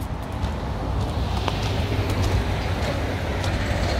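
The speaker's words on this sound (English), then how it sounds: "Loud trucks everywhere." Heavy trucks rumble past near Auckland Harbour, a steady loud low roar of traffic with no talk.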